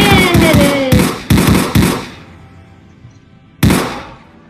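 Rapid automatic gunfire from a SpongeBob video game rattles out in loud close bursts of sharp shots, pauses, then cracks once more near the end.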